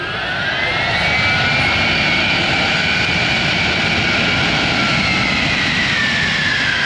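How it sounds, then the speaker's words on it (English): C-5 jet engines roar loudly and steadily in reverse thrust after landing at an airshow, a broad rushing blast with a high whine that shifts in pitch as the thrust builds. "comes the reverse thrust. Listen to the sound of the engine change."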